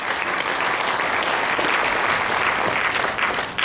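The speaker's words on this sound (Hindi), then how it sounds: "एक बार जोरदार तालियों के साथ आगे बढ़ते हैं।" Loud, dense applause from an audience at a health talk on diet-based healing, a steady wash of many hands clapping throughout without a break, with no voices above it.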